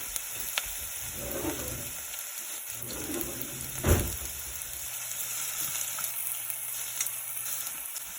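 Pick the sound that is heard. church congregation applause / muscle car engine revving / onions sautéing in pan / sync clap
onions sautéing in pan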